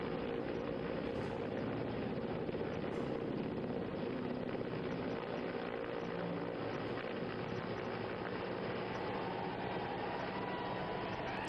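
An army helicopter hovering during a rope rescue gives a loud, steady, unbroken roar that fills the whole stretch with no voices over it.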